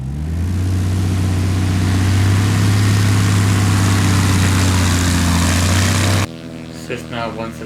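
A Cessna 172 XP on a muddy one-way airstrip runs its propeller engine with a loud, steady droning roar that cuts off abruptly near the end, after which someone speaks.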